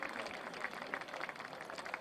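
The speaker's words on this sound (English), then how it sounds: "Nice round of applause there." A stadium crowd at a women's Division I national championship between Stanford and Penn State gives a round of applause, heard as faint, distant, continuous clapping.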